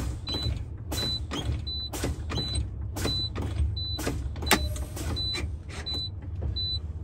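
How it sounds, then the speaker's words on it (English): Truck air brakes during an emergency brake check give a steady series of short rhythmic pneumatic puffs and clicks, each followed by a brief high tone, repeating roughly every half second over a low idling hum. "these two valves will pop out."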